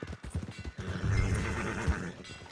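Horse whinnying near the stables in Red Dead Redemption 2, preceded by a few hoof clops, then a loud, drawn-out neigh with wavering pitch that dominates the scene.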